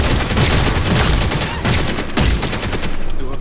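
Rapid gunfire from the video game Redfall, a dense continuous fusillade of shots with sharper bursts near 1.6 and 2.2 seconds, loud and close throughout with no talk over it.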